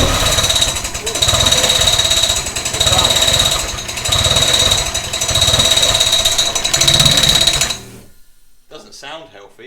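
A car engine being cranked on the starter in a workshop after the fuel pump was confirmed working, running loud and steady with a rough mechanical clatter for about eight seconds before cutting off, followed by a brief voice.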